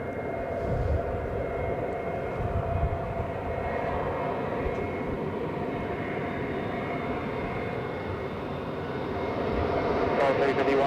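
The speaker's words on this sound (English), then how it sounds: "Delta already wheels up." Delta jet airliner taking off and climbing out of Los Angeles International Airport, a loud steady roar that swells and holds at a distance for the whole stretch.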